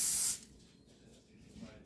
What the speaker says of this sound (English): Good way to get your honey just to slide out is to spray it with your nonstick spray